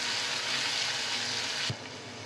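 Tomatoes are stirred into onions frying in a pan over a low gas flame for a spinach and chickpea dish: a steady, close sizzle runs throughout, then a soft clunk near the end and the hiss drops quieter.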